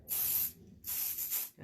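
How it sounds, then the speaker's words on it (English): Hairspray hisses onto styled Hollywood-style hair in two long bursts, the first about half a second, then a short pause and a longer spray with slight pulsing, close and bright with no voices. "We do the hairspray and the blow dryer yet again."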